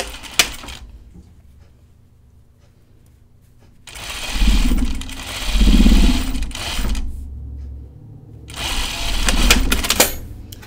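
Sewing machine stitching a French seam on a dress, running in two loud bursts of rapid whirring stitches separated by a quiet pause, with a brief click near the start.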